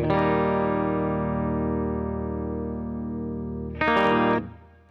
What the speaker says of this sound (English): So let's listen to the clean sound again.